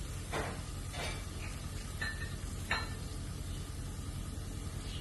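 Ginger and garlic fry in very hot oil in a pan, a steady close sizzle running throughout, broken by a few soft spoon strokes and light metallic clinks.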